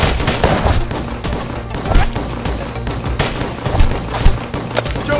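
Rapid machine-gun bursts and overlapping gunshots fill a film battle scene, with close, loud cracks repeating densely throughout.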